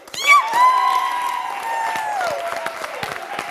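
Congregation at a French-language church service applauding and cheering, with a long sustained shout ringing over steady clapping and crowd noise.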